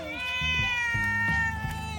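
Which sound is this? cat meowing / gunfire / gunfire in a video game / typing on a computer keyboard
cat meowing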